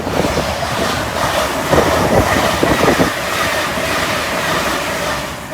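An LNER Azuma twin-set train pulls into the platform at Newark Northgate, a steady loud rumble and rolling clatter with wheel-rail thumps building in the middle, heard alone without talk.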